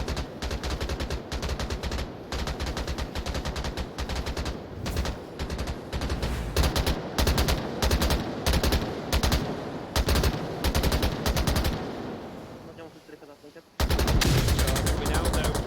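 Rapid, sustained gunfire in the VR shooter Onward during a competitive VRML match, dense bursts of shots close up, continuing for most of the stretch before a brief lull and a loud resumption.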